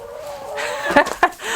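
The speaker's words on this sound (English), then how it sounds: "All the chickens are coming in here." A chicken gives a short, close cluck with a couple of sharp squawking bursts, over a faint steady background hum.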